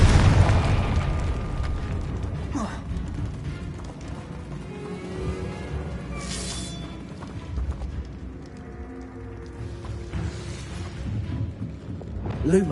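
Repeated Confringo fire-blast spells explode in the Hogwarts Legacy game, with booming bursts landing throughout amid game effects and a rumbling low background, no speech.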